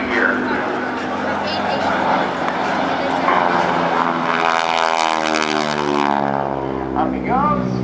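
A propeller airplane flies at the NAS Oceana airshow with a loud, steady engine drone whose pitch falls as it passes. An announcer talks over the sound, a dog barks, and crowd noise is heard.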